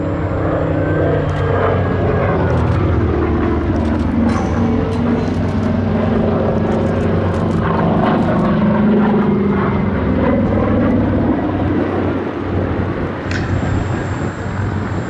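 A propeller aircraft drones loudly and continuously overhead at the Battle of Britain Air Show at Duxford in 2024. The engine roar stays steady and close throughout, with faint crowd noise beneath it.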